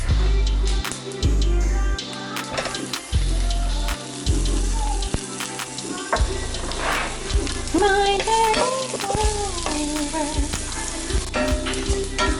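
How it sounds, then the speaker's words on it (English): Garlic, curry leaves and mustard seeds frying over a low flame in a pan, a steady close sizzle with crackles and a few stirring clatters, with faint background sounds. "we need to go in with our garlic"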